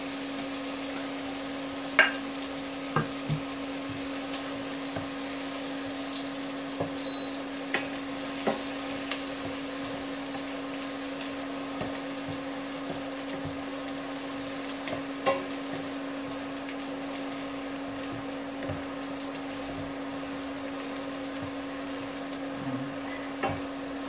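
Garlic sautéing in butter in a pan, a steady soft sizzle under a constant hum, with occasional faint clicks and taps of a utensil against the pan.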